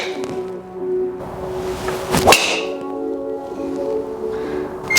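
A single sharp, crisp impact of a golf club striking a ball, loud and close, over a steady outdoor background hum.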